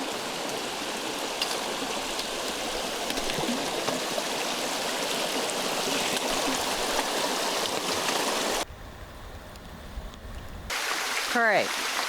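Running water rushes steadily like a stream, with a brief drop in level partway through and a faint voice-like warble near the end.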